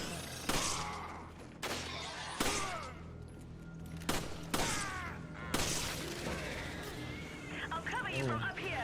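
Gunfire in Resident Evil 5 comes as sharp, loud single shots spaced a second or so apart, with combat noise and voices mixed in between them.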